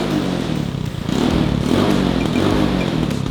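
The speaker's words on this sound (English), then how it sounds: "I'm gonna start it up and give it some revs." A tractor engine modified to shoot gas out of the exhaust rumbles loudly and steadily with clattering mechanical noise, its revs swelling slightly after a brief dip, with no talk over it.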